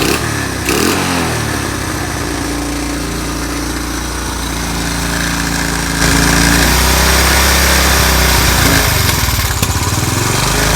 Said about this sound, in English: It won't run without the choke, but choke on, it's nice and quiet, smooth.